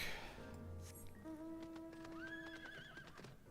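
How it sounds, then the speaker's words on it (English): A horse in Final Fantasy XIV gives a single whinny over soft hoof clip-clops, with a few tonal game sound effects in the background, fairly faint and without speech. "I got my horse back."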